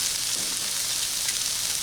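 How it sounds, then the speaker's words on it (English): Butter sizzles on a hot Blackstone flat-top griddle as a steady, moderately loud crackling hiss with no pauses and no talking. "I'm going to throw a little bit of butter right in the mix here."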